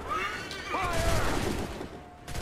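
Musket volley fired by a line of soldiers in the game Assassin's Creed III, a loud crackling burst of shots with rolling echo, amid battlefield noise and shouted orders.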